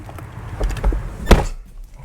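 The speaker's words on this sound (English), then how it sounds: "let me close this door" A single solid thunk of a BMW car door shutting, sharp and close, after some faint shuffling movement, then quiet.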